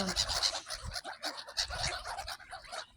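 A flock of birds squabbling over scattered food, giving rapid, overlapping gobbling and clucking calls at close range, busy and continuous with no talk.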